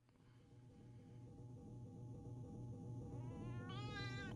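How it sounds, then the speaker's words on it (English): A hungry cat yowls in a long, drawn-out wavering meow that builds steadily louder and rises into a higher wail near the end, heard alone at a fairly close but quiet level. "I think I'd better take a quick break to feed the cat. Or else you're going to hear nothing but this yowling"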